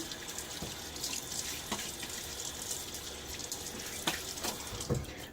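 Cool hard tap water runs steadily into a sink with a soft hiss, broken by a few faint splashes and clicks, no one speaking.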